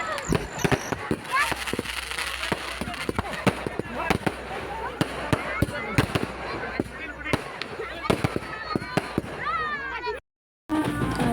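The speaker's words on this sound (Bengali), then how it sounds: "বরযাত্রী আসার পর থেকেই বরযাত্রীগুলো বাজি ফাটাচ্ছে" Firecrackers set off by a wedding procession at a wedding celebration, a dense run of sharp pops and bangs at varying distances, with people talking and a crowd murmuring throughout.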